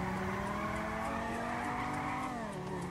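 Tire squeal from a Nissan 350Z drifting in GTA 5: a loud, sustained screech with a steady engine drone beneath, the pitch sliding down near the end as the slide eases off.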